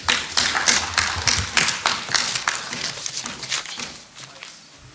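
Members in a parliamentary plenary session break into sustained applause, a dense, close burst of many hands clapping that gradually thins and fades out.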